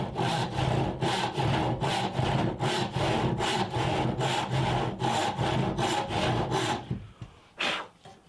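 A handsaw rips a long straight cut through a board, its strokes steady, rhythmic and close, about fifteen back-and-forth passes before the sawing stops and a few faint knocks follow.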